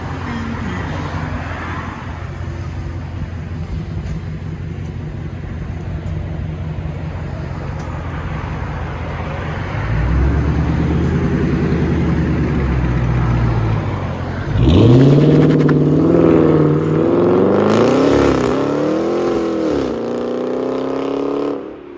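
A straight-piped Dodge Charger Hellcat wide body with a 6.2 supercharged V8, deleted rear mufflers and 5-inch tips, idling with a low rumble before loud, raspy revs build and rise in several blips.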